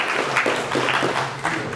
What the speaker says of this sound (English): We need a big round of applause for Matteo.